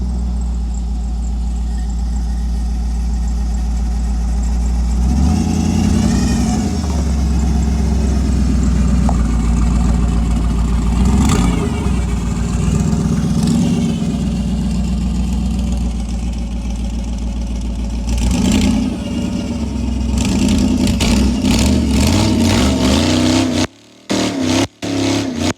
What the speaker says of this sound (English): Does in fact still do burnouts.